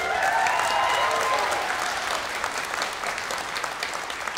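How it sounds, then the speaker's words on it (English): Steady applause from a concert audience at a university clarinet choir performance, honoring the composer who had been conducting; dense clapping holds loud and even throughout, easing slightly toward the end. "please acknowledge, because he had to conduct, he didn't get a chance to get the applause"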